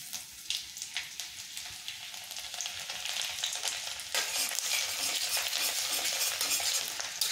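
Chopped garlic hits hot oil in a wok already used for frying chicken pakoras, giving a dense, steady sizzle with stirring scrapes that grows louder and fuller about halfway through, with no voices over it.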